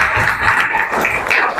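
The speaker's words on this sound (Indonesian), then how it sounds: "ya tepuk tangan dulu" Students in a classroom applauding, a steady burst of close group clapping lasting a couple of seconds with no talk.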